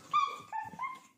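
A voice imitates a dog barking, with several short, strained yips and woofs in quick succession, close and fairly clear.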